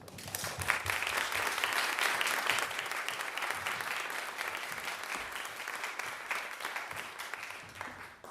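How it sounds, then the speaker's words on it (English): An audience at a Sunday Assembly gathering in Pittsburgh claps for the launch team, a sustained round of applause that swells early and slowly tapers over several seconds. "round of applause for the launch team and the work team"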